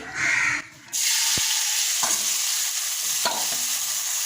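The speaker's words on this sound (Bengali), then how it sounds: "জিরের গুঁড়ো দিচ্ছি ফোড়নে তো এরপর দিয়ে দেবো পেঁয়াজ কুচি" Chopped onion frying in oil tempered with cumin powder, a bright close hiss that surges after a short lull, punctuated by a few sharp spatula taps against the pan.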